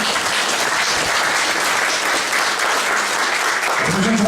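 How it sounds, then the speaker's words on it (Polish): A concert audience at a Polish anniversary event applauds, producing loud, dense, continuous clapping close up that holds steady throughout. "Wielkie brawa, proszę Państwa."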